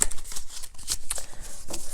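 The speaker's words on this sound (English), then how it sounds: "I shuffle off camera here, but you hear me shuffle." A deck of tarot cards is shuffled by hand nearby in quick bursts of crisp riffling and slapping, with short gaps between the passes.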